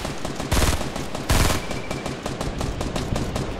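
Video game gunfire crackles in rapid bursts, with two louder, heavier volleys standing out near the start amid a continuous stream of nearby shots.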